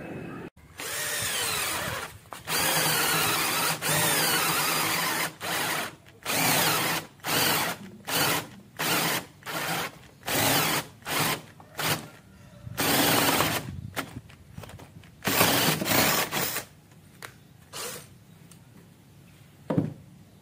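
Several 12V cordless drills, a Makita DF33 among them plus cheaper brands such as Nagawa, run in drilling mode at speed 2. Loud, close whirring bursts start and stop repeatedly, with short pauses between them.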